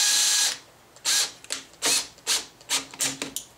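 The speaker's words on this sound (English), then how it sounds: "I'm just going to use a larger drill bit and we're just going to take out the top" A power drill with a larger bit countersinking a screw hole whirs in short repeated bursts, about seven quick spins with brief pauses between, close and fairly loud.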